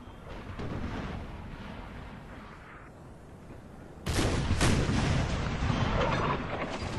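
Gunfire and cannon fire in the video game Napoleon: Total War rumble as a continuous battlefield din, with a louder burst of booming volleys partway through that stays heavy until the end.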